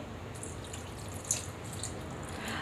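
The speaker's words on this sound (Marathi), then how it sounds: "ह्यामध्ये थोडंसं पाणी घालायचं आहे" Water pouring and splashing into a bowl of mango peels and stones, a light steady trickle with a brief louder splash partway through, no voices.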